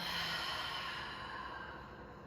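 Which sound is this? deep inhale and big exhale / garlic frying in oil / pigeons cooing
deep inhale and big exhale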